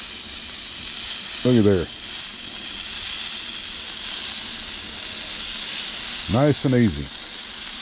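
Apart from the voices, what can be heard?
salmon searing in a pan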